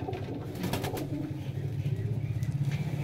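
Domestic pigeons in a breeder's loft cooing close by in low repeated throaty pulses that grow steadier toward the end, with a brief flutter and faint background noise.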